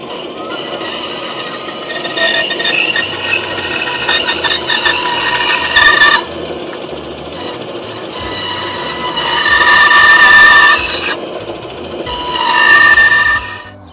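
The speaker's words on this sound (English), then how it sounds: "So that's what I'm getting ready to cut now on the bandsaw." A bandsaw rough-cuts curved wooden cornhole legs with a loud, steady whine and grinding, pausing and then surging again as each cut goes through, close by with no talking.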